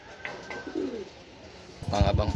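Racing pigeons arriving from a training flight in Urdaneta, Pangasinan give a soft, close coo, and a louder burst of noise follows near the end.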